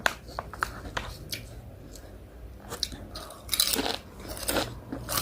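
Crunchy food being bitten and chewed close up: irregular crisp crunches and mouth sounds throughout, growing denser toward the end, with no clear talking.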